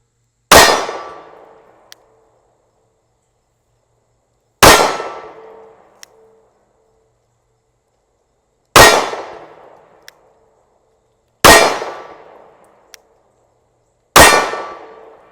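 Five loud, close shots from a SIG P365 pistol fired at a target, evenly spaced a few seconds apart, each a sharp blast with a ringing decay and a faint metallic tick soon after, with no voices.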